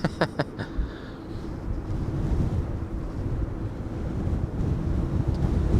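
Gusty wind at Amsterdam Schiphol Airport buffets the microphone as a steady, loud low rumble, with a few brief clicks at the start and no talking.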